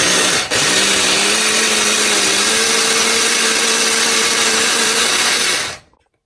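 A kitchen blender grinds uttapam batter with poha, a loud, steady motor whir with a slight pitch rise that runs for about six seconds and then cuts off abruptly.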